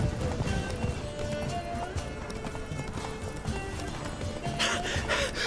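Roach, Geralt's horse in The Witcher 3, gallops with rapid, loud clip-clop hoofbeats and occasional snorts, set against game music and ambient noise.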